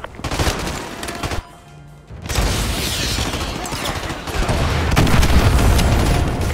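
In a Call of Duty Modern Warfare 2 campaign battle, AGM missile strikes land in loud, dense, rumbling explosions mixed with continuous gunfire, easing briefly before swelling again into a sustained barrage.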